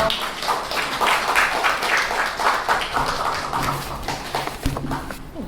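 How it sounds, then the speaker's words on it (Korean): An audience at an exhibition opening seminar claps to welcome a speaker, a full round of applause that runs steadily, then tapers into scattered claps and a few knocks near the end. "박수로 맞이해 주세요."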